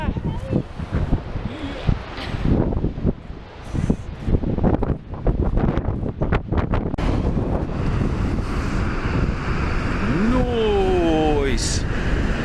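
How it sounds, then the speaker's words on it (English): Strong, cold wind in Iceland roars and buffets the microphone continuously, with people talking over it and a brief voice sliding in pitch near the end. "It's so windy and so cold, but it's very spectacular."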